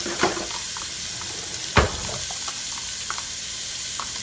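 Chopped yellow onion with a little purple onion sizzles steadily in hot oil, a close, continuous crackle with a couple of sharp clatters from stirring.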